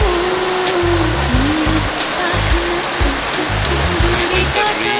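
Shivakhola river rushing over rocks, a loud steady broadband wash of flowing water close by, continuous throughout with no pauses.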